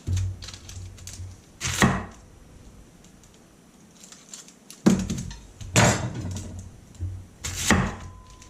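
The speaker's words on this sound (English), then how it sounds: "And I'll do one slice each with the onion." An S-grind kitchen knife slices through an onion on a board, giving a handful of crisp, close cutting thuds spaced apart, each with a short crunchy edge, against a quiet room.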